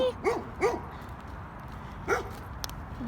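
A dog in a cemetery barks at visitors: a few sharp, close barks in quick succession, then a pause and another bark with a short yip, over quiet outdoor background.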